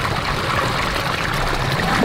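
Waterfall spilling off rock into a recreational pond, a steady, dense rushing splash with a bassy undertone, continuous and close throughout with no talk.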